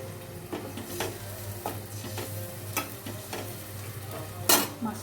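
Rohu fish frying in spice masala in a pan, a quiet sizzle beneath a steady low hum, broken by several sharp spoon clicks and scrapes and one louder clatter near the end.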